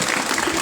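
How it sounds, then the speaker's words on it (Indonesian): An audience at a school student council final event breaks into a short burst of applause. The clapping is dense and evenly sustained at moderate loudness. "Tepuk tangan untuk kita semua."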